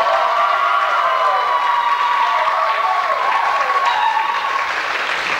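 Audience at a religious song festival in Czerwionka-Leszczyny applauding: dense, sustained clapping from a large crowd, loud and continuous throughout with a faint cheer mixed in.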